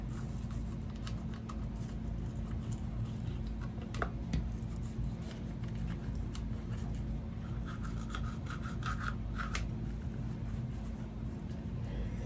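A brush scrubs inside a rifle during cleaning, giving a steady close rasping rub that keeps going without a break, with a few light ticks and clicks over a low background hum.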